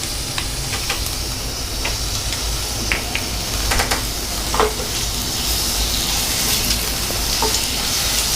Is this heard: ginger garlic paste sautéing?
yes